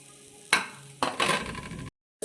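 Grated coconut being roasted in a pan for fried modak, with a utensil stirring and scraping in short bursts over a faint sizzle, then a sudden stop into silence.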